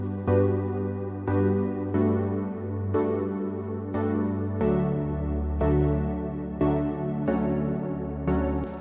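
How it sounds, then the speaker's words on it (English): A wide synth layer paired with piano plays a slow sequence of sustained chords, each change struck about once a second, moderately quiet and alone without any voice. "and this is the synth"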